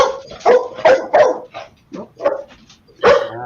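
A pet dog barks in a series of sharp, close barks with short pauses between them, ending in one more loud bark, heard clearly and with no talking over it.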